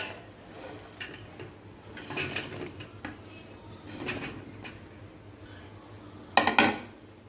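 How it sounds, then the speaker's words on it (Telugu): Gulab jamun balls are dropped into cooled sugar syrup, giving a few scattered clinks and soft splashes against a pot, with one louder clatter near the end and faint birdsong in the background. "ఇప్పుడు ఈ బాల్స్ అన్నీ ఇందులో వేసేస్తాను."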